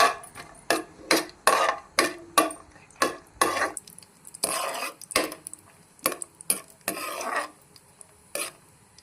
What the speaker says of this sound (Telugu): బాదం పప్పు, జీడిపప్పు కలిపి ఫ్రై చేసేసుకుందాం.